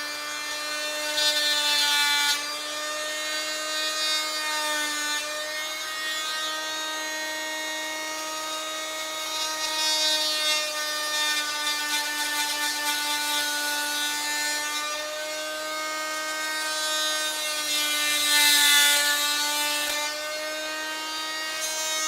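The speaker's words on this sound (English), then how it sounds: "I'm just going to cut out where I think that the dash is going to sit" Oscillating multi-tool cutting through the plastic dash area of a Ford Bronco build, a steady high buzzing whine with a strong harmonic drone that wavers in pitch as the blade bites, loud and close, running continuously without talk.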